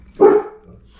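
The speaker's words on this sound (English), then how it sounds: "So that's the dog," A single short, loud dog bark sounds close by, alone against quiet room tone.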